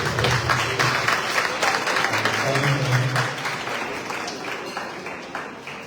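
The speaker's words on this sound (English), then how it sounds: "Let me just give a hand clap to all of those who came up here." A crowd at a diaspora heritage awards gala applauds with dense, steady clapping that gradually fades, while a voice speaks over it.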